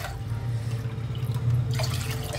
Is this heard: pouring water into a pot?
yes